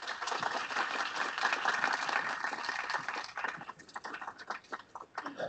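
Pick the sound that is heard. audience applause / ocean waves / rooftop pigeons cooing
audience applause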